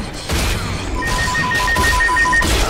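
A house phone rings in regular repeating pulses over loud, rumbling shooter-game noise that sounds like gunfire.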